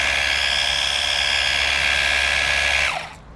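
A Fanttik NB8 Flip portable pressure washer sprays in a loud, steady high-pitched hiss close by, then cuts off abruptly near the end, with no talk.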